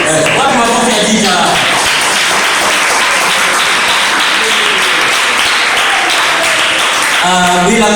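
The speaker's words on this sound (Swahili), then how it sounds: "Wapi makofi ya Dija?" A concert audience claps for a performer named Dija. The applause is dense and steady and lasts several seconds, and a voice can be heard at the start and end around it.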